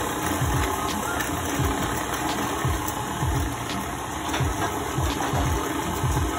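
A KitchenAid stand mixer runs on low speed mixing sour cream cookie dough, a steady mechanical motor hum with a rhythmic knocking thump as the beater turns.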